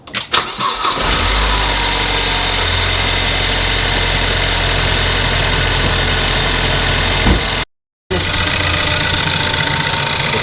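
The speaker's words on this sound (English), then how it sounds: "Let's go ahead and start the car" A car engine cranks and fires up, then settles into a steady, loud idle with a faint knocking, broken by a short gap of silence before the idle carries on.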